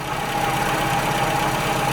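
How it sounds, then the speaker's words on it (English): A classic car engine idles steadily after a carburettor needle swap, a close, even mid-pitched running drone with a faint whine, no talking. "engine's running nicely now"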